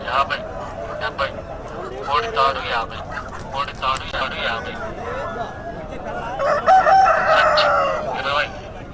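Country roosters crow repeatedly at a busy village chicken market, several calls rising over a constant murmur of nearby chatter and bargaining voices.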